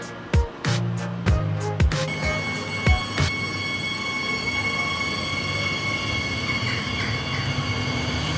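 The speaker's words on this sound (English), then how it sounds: "we've made our way to the railway station to take the train to Bayeux" A train from Cherbourg bound for Bayeux rumbles along the rails, with a series of rhythmic clacking wheel thumps early on that give way to a steady loud rolling drone and a sustained high squeal.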